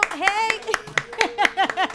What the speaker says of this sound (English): let's give her a round of applause for her, please